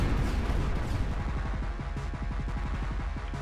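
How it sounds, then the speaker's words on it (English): Supersonic rockets fire in the video game Project Warlock: a long, rapid run of heavy, punchy blasts, evenly spaced and loud, with a dense rumbling backdrop. "I like the supersonic rockets."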